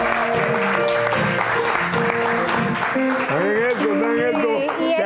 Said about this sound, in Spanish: ¡Pueden aplaudir, muchachos!